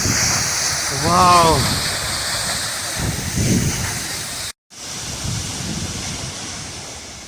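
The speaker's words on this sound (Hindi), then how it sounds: "आपको मैं पास से दिखाता हूँ ये झरना," A waterfall at Sural Bhatori in the Pangi Valley roars as a broad, constant rush of water mixed with wind buffeting the microphone, with a brief exclamation and short speech near the start and a momentary dropout partway through.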